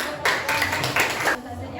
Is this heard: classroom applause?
yes